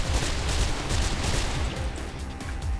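Rapid gunfire from the first-person parkour game Mirror's Edge, dense and continuous with sharp low booms repeating throughout, loud and close with no pauses.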